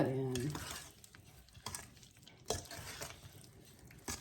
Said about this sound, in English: So here's the rhubarb. And we're going to fold that in.